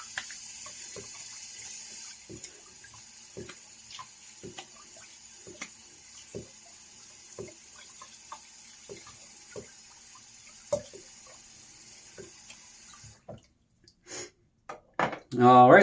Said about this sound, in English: I'm going to wet my face with some hot water.